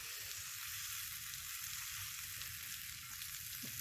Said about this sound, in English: You hear the sizzle, so that's a good thing.